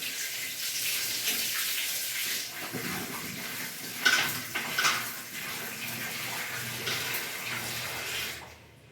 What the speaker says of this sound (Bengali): আমার কুমড়ো আলু ভালো মতন ধোয়া হয়ে গেছে।